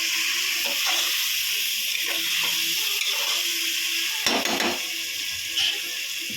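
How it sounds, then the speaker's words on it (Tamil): Four large tomatoes sizzle in a hot pan while being stirred, a steady bright hiss throughout with occasional scraping and clinks of the spoon against the pan. "நாலு தக்காளி பழம் எடுத்திருக்கேன் நல்ல பெரிய சைஸ் தக்காளி பழம் நாலு எடுத்திருக்கேன் மசிஞ்சு வரணும் நல்லா கிண்டிக்கிடுவோம்"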